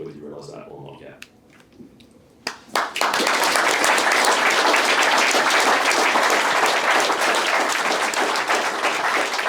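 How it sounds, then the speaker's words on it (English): Talk in a conference room gives way to an audience bursting into loud, sustained applause, with many hands clapping densely and evenly until the end. "I want to start with another round of applause, please."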